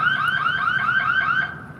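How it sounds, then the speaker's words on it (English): A store's security alarm wails in a fast repeating warble of rising tones, loud and steady for over a second before cutting back to a lower fading tail. "That was like a store alarm."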